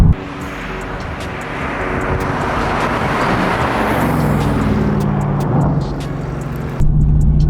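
A loud engine drones steadily from inside a moving Mercedes-AMG GT, its pitch climbing then dropping as it shifts, with road roar throughout.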